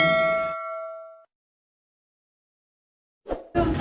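A notification bell chimes once with a bright metallic ding that rings out and decays over about a second, followed by silence and then a brief burst of other sound.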